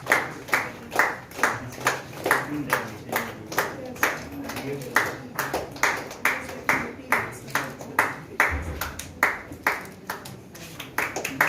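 A modest crowd at a commerce teachers' award event claps for an honoree in a dense patter of individual handclaps lasting several seconds. A faint murmur of voices sits underneath.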